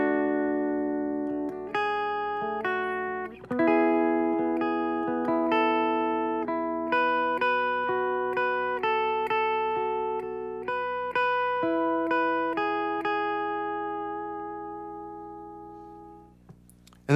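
A clean, slowed-down electric guitar plays the bridge melody of a song with no effects, a sequence of distinct plucked notes ringing out one after another before a long sustained note fades alone.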